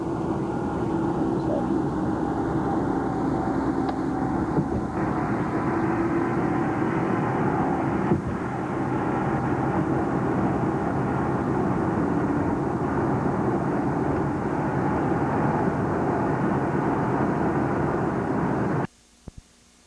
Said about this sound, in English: Airport.